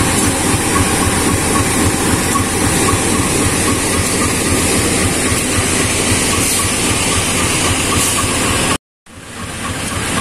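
A loud, steady mechanical drone of the generator car engine on the Sindang Marga train in Indonesia runs continuously close by, with a brief dropout near the end.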